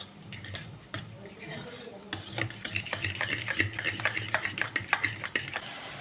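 Spatula stirring biryani masala, homemade garam masala and softened onion and tomato in a pan for egg biryani, a busy series of quiet scraping clinks and stirs that grow denser, with a voice talking in the background.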